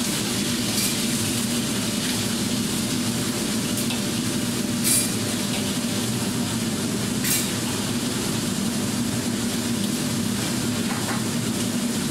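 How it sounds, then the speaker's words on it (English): Prawns deep frying in hot oil give a steady, even sizzle with faint crackles throughout, heard alone without voices. "when the oil is hot, he puts in the prawn"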